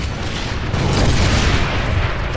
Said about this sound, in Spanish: Vamos a contar los disparos para matar al boomer.